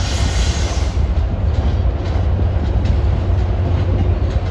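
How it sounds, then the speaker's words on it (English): An MBTA commuter train with a double-decker cab car rolls past close by, a loud, steady rumble of wheels and rail noise lasting throughout without any voices. "Double-decker cab car."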